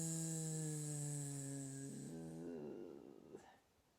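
A voice imitates a frog snoring with a long, drawn-out buzzing hum that breaks into a rough, rattling snort and fades, close and alone.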